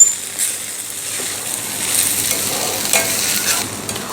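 Soaked poha is stirred into a hot tempering in a pan, making a continuous soft sizzle with a scraping, rustling texture as the flakes are turned, close and alone.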